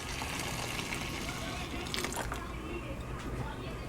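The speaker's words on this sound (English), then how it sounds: "and now I'm gonna add the vinegar." Vinegar poured into a pot of peppers for pepper jelly, a steady liquid splash and trickle running continuously and close, with faint background noise throughout.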